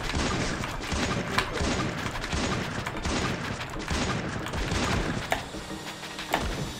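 Rapid gunfire from a video game crackles in dense, continuous bursts, with a few sharper louder shots standing out near the end, all fairly close and without any talk over it.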